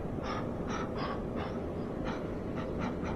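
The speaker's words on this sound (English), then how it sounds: "where all you're hearing is the breathing of fucking skeleton dogs" Skeleton dogs in the dark depths of the Tomb of Giants in Dark Souls pant and gasp in a series of breathy, raspy huffs over a heavy, rumbling ambient drone.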